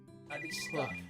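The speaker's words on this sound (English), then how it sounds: "Oh, that was a phone call." A phone rings in the video game Major Minor, a steady electronic tone running under a man's speech for about a second.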